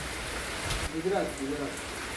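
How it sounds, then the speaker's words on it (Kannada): Heavy rain pours steadily near a waterfall, a dense unbroken hiss of water that fills the whole clip, with a person speaking over it. "ಎಂತ ಮಳೆ ನೋಡಿ ಎಲ್ಲ ನೀರೆಲ್ಲ ಬರ್ತದೆ ಇಲ್ಲಿ"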